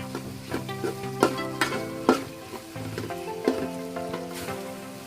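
Malabar spinach flowers fry lightly in a pan with a soft steady sizzle, broken by repeated scrapes and knocks of a spatula stirring them, close and fairly quiet, with tonal hum beneath.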